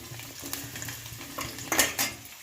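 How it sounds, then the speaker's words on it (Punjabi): Chillies fry in oil in a pan, a short burst of sizzling mixed with the scrape and clink of a utensil against the pan, a few sharper knocks near the end. "ਮਿਰਚਾਂ ਦੇਖੋ ਥੋੜੇ ਜਿਹਾ ਤਲਦੇ ਆ ਆਪਾਂ ਇਹਨਾਂ ਨੂੰ"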